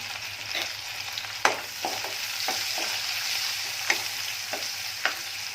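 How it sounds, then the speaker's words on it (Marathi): Onion sautéing in a pan with a pinch of turmeric, a steady close sizzle broken by a few sharp clicks and scrapes of stirring. "कांदा आहे तो जरा एक दोन मिनटं फक्त परतून घ्यायचा आहे थोडीशी चिमूटभर हळद"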